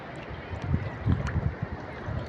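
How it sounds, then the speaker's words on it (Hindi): Fast-flowing flood water rushing past, a steady low churning roar with gurgling surges, heard from close by with no voices. "अभी पानी बहुत तेज हो गया"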